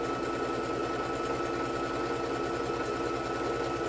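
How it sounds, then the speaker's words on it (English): A sewing machine runs a steady top stitch along the folded edge of a fabric Kindle case, its rapid even whir and needle clatter continuous and close for the whole stretch. "I'm just putting in a top stitch which just keeps it sharp"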